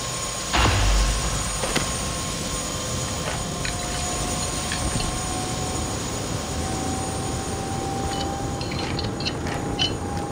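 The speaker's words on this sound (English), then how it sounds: "it looks like here's the helicopter." A steady whirring video game helicopter rotor and engine drone in the game Prey, loud and continuous, with a faint high tone and a few light clicks over it.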